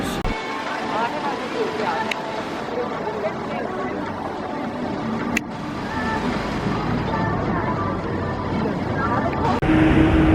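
Corona disinfection vehicle driving on a Seoul street, a steady engine and road rumble passing nearby, with people talking over it.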